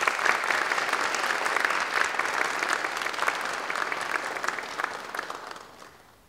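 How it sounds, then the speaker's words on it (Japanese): Audience at a university spring graduation and degree ceremony applauding the graduates, a dense, sustained round of clapping alone that fades away in the last second. "どうぞ大きな拍手をお願いいたします。"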